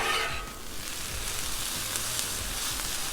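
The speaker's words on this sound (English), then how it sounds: "Let that garlic cook with this stuff." Garlic and pork fried rice sizzling on a Blackstone griddle, a steady loud hiss of frying that fills the scene close up, with no talk.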